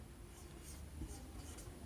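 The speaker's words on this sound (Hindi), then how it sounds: "लिखेंगे हल में।" A pen scratches steadily across paper while someone writes out a math solution, a soft continuous scratching close by over a low steady room hum.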